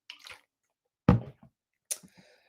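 Three short, separate wet sounds of someone sipping water, each brief slurp or swallow isolated in near silence and close to the listener.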